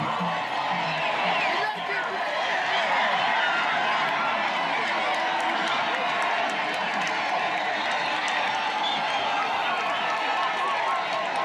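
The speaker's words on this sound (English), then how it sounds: "The people are cheering for their king" A large crowd cheers and claps with great fanfare as the king's giant dugout canoe reaches the far side of the kingdom, a dense, steady roar of voices and applause that never lets up.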